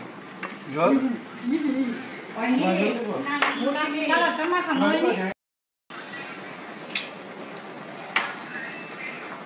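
Dishes and cutlery clink and scrape as food is served and eaten at a family birthday meal in Bangladesh, with scattered close-up clinks heard under continuous conversation.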